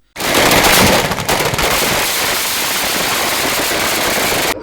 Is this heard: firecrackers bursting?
yes